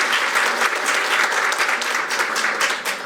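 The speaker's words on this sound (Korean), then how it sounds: "한기호 의원님, 박수로 환영 부탁드리겠습니다." Sustained, steady applause from an audience welcoming a lawmaker at a Korean defense event, dense clapping filling the whole stretch at even loudness with no voices over it.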